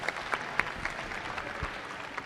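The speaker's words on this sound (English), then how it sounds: "Give him a round of applause for him, please" Audience clapping for a visiting guest at a VEX IQ elementary robotics championship in Michigan, a sustained, moderately distant patter of applause with a few sharper claps standing out and no voices over it.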